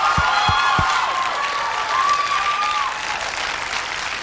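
Audience clapping at a Serenity (2005) making-of event, a dense wash of steady applause from a crowd with faint cheering, fairly loud and continuous throughout.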